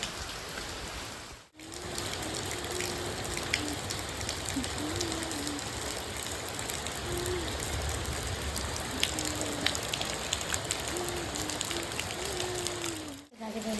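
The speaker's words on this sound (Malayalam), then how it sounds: "ഇവിടുന്ന് അറിയാം നിങ്ങൾക്ക് എത്ര മഴ പെയ്യുന്നുണ്ട്." Light drizzle building into steadier rain falls outdoors, a constant close hiss of drops that runs unbroken for the whole stretch, with no one speaking.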